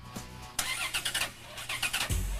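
A van engine cranks sluggishly in slow, uneven bursts without catching, a weak starter on a weak battery labouring close by in an otherwise quiet setting.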